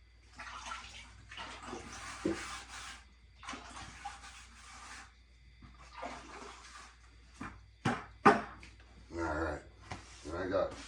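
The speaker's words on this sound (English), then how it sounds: "I'm just gonna wash the edges here." Water splashes and washes over the edges of a floor while cleaning up after mixing self-leveling compound, coming in several bursts of rushing, swishing flow with brief pauses and a few louder sloshes near the end.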